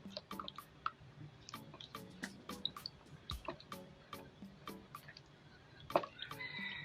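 Carbolic acid, or phenol, is stirred into a soap and oil mixture, giving soft, irregular wet ticks, drips and squishes, close and quiet, with no talking.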